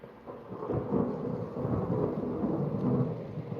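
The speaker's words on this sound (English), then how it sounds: "And the storm is just now starting to reach its zenith." Thunder rumbles low and heavy through steady rain during a storm, a continuous rolling roar that swells and eases over a few seconds with no voices.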